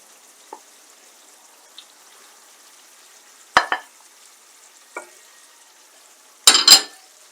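A faint, steady sizzle of minced meat frying in a pan for karnıyarık, punctuated by a few sharp clacks and scrapes of a utensil against the pan.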